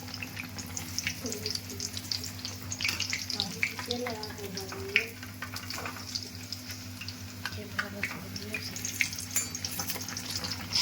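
Bread pakoras deep-frying in hot oil, a soft continuous bubbling crackle over a low steady hum, with light scattered pops and occasional clinks.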